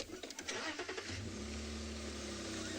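A car engine cranks briefly, then catches and settles into a steady idle, heard from close by with no speech.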